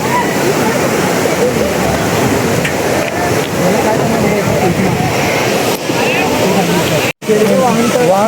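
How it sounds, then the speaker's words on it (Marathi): Sawatkada waterfall roars in a loud, constant broadband rush that fills the whole scene without letting up. "हा आहे पहिला धबधबा"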